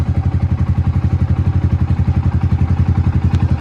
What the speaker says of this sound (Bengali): এখন দেখেন ইঞ্জিনের সাউন্ডটা আপনারা